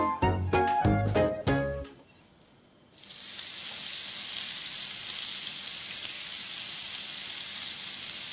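Thin salmon slices sizzle in a pan over moderate heat for a Japanese bento breakfast; a few sharp tapping sounds give way to a steady, close frying hiss that runs without a break to the end.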